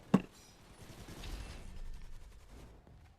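A shotgun pump-action reload in the Gun Raiders video game: one sharp mechanical clack right at the start, followed by a softer sliding rumble that fades, moderately quiet, with no talking.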